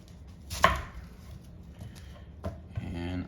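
A knife chops food into small pieces on a cutting board, giving two sharp, separate knocks a couple of seconds apart, with a brief voice starting at the end.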